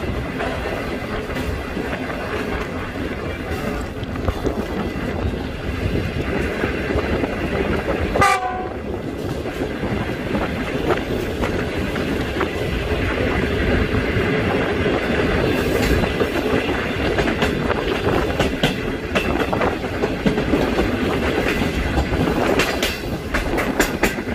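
A Pakistan Railway train running from Lahore to Karachi gives a loud, steady rumble with a continuous wheel-and-carriage rattle, broken near the middle by a brief horn-like blast.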